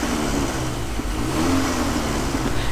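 A Nissan Micra engine revving steadily, close and loud, with a continuous mechanical drone; a slight timing chain rattle is described but cannot be picked out clearly.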